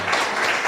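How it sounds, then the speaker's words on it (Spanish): A brief wash of congregation applause inside a church, dense and steady clapping with no voices. "Dale un aplauso a Cristo"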